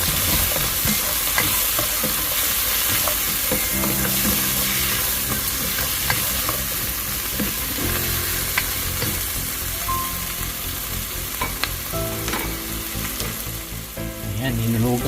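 Sweet potato sautés in a pan after onion and garlic, giving a loud, continuous sizzle and crackle with stirring scrapes and utensil knocks against the pan.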